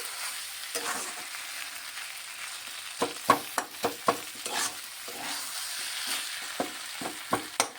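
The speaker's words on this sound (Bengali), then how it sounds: "লঙ্কাটা দিয়ে ভালোভাবে একটু ভেজে নিলে লঙ্কার ঝালটা উঠে যাবে" Green chillies fry quietly in a pan, a soft continuous sizzle broken by a series of sharp spatula taps and scrapes as they are stirred, close and without talk.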